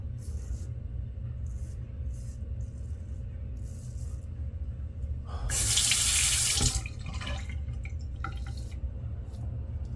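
A sink tap runs during shaving, a low steady trickle of water with a brief louder rushing splash midway, close by and otherwise fairly quiet.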